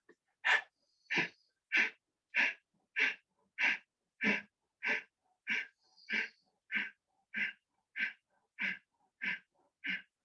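Kapalbhati yoga breathing, a steady series of about fifteen sharp, forceful nasal exhalations at an even pace of roughly one per second, close and clear with silence between each puff.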